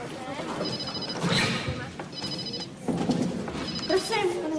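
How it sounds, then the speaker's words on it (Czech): Mobile phone ringing during an indoor interview, a repeating electronic trill in three bursts, with people talking over it throughout. "Já tady slyším mobil."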